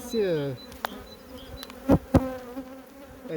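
A honeybee colony on spring hive frames hums in close, wavering buzzes as single bees pass near, with a few sharp handling knocks.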